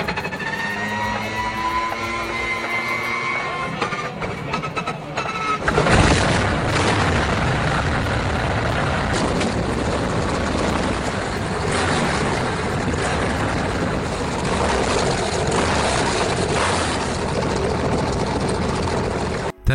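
A huge BMW aircraft engine cranks with a whirring starter, then catches with a sudden boom and settles into a loud, rough, continuous roar.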